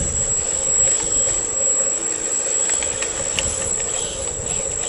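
RC Liebherr 6015 model excavator driving onto a big blue trailer at an RC park at night, a steady high-pitched electric motor whine with faint mechanical clicks under constant background hum.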